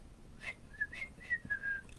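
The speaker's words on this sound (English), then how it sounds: "He whistled." A person whistles a short series of clear high notes, five or six quick chirps and a final held tone, fairly faint against a quiet background.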